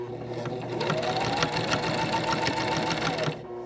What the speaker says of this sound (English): I'm gonna back stitch a few stitches, and then go forward